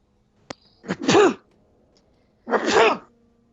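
A voice imitates a sneeze: a quick intake, then two exaggerated sneezing bursts separated by a short pause.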